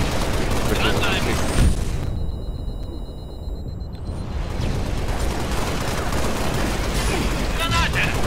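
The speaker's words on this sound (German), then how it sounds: "ich baller ein ganzes Magazin" Rapid automatic gunfire from a magazine being emptied in the Halo Reach co-op shooter game, loud and continuous across the whole stretch with a brief muffled dip in the middle, and excited voices talking over it.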